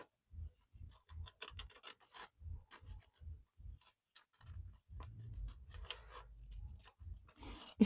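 Scissors trim excess vellum paper around the edges of a craft piece with a string of soft, close snips and crisp paper rasps in a quick, uneven rhythm, with no talk.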